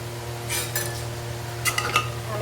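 Mutton and potatoes are stirred in a pot for mutton curry, giving a few clinking, scraping strokes of a utensil against metal over a steady low hum.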